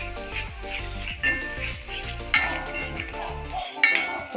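Chili powder being stirred in a pan for pappadam curry: repeated scraping and light metallic clinks of a spoon against the pan in an uneven rhythm, close and moderately quiet.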